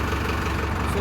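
A tractor engine runs, a loud, steady low rumble with a throbbing idle pulse, close by, with a voice speaking over it.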